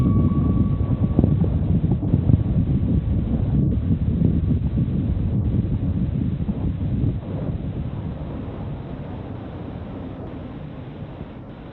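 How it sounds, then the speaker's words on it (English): A SpaceX Falcon 9 rocket climbing away from Launch Complex 39A at Kennedy Space Center gives a continuous, broad, rumbling roar heard from a distance, steady and loud with wind-like buffeting and no talk. "Falcon 9 has successfully lifted off from Launch Complex 39A at Kennedy Space Center"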